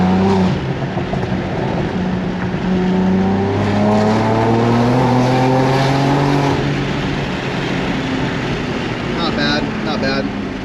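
A BMW G82 M4 fitted with a JB4 tune, downpipe and full exhaust system drones loudly from inside the car, its engine note rising and falling in pitch through acceleration, with a voice talking faintly over it.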